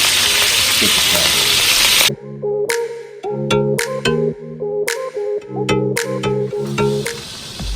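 Tomato sauce hits hot oil in a pan of Italian burgers, a loud steady sizzle that drops suddenly into intermittent crackling, scraping and clinking as the food is stirred, with no voices.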